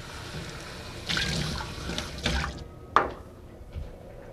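A cup is rinsed out with water in a kitchen while roasted butternut squash soup is made, giving a few short splashing pours and trickles, with one sharper splash near the end, close by and without speech.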